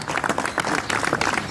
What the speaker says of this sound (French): Voilà, les applaudissements en direct du Mont Olympie.